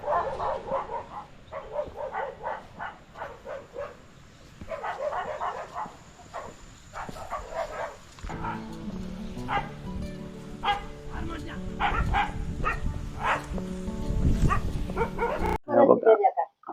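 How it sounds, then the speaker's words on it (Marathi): Several dogs bark in repeated bursts, some close and some farther off, while a voice talks over the later barking. "कुत्र्यांना माझ्या येण्याची चाहूल लागली भुंकायला सुरुवात केली"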